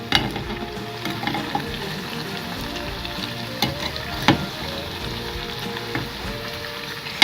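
Cinnamon and cardamom mandazi dough frying in hot oil in a pan, a steady close sizzle with soft bubbling and occasional sharp crackles as the pieces are turned.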